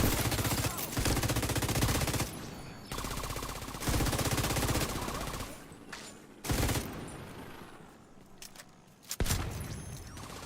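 Video game gunfire from The Division 2 rattles in long, loud automatic bursts with short pauses between them, then gives way to a few sporadic shots and mechanical clicks.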